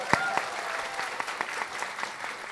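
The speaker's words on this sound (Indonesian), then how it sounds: "Mana tepuk tangan yang lebih meriah lagi?" A talk show studio audience claps continuously in a lively, even patter, with a few crisper individual claps near the start, sustained throughout.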